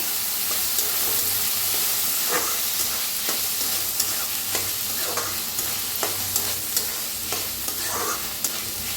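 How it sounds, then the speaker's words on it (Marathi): Dal roasting in a pan with already browned onion for a drumstick-leaf bhaji: a dense, continuous sizzle up close, broken by regular scraping stir strokes, with no talking. "आता ह्याच्यातच टाकूया डाळ बी। डाळीला बी चांगलं भाजून घ्यायचं।"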